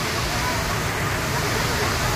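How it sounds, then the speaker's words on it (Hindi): The Sitapath waterfall near Dhar rushes with a dense, constant roar of falling water, loud and unbroken. "और ये है ब्यूटीफुल सा सीतापाट झरना"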